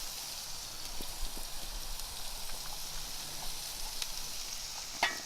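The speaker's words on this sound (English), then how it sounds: "my pan is heated up now, so I'm going to go ahead and add the onions" Onions sizzling in a hot pan while pork tenderloin is prepared: a steady, close crackling hiss with scattered pops and a few sharper spatters near the end, no voices over it.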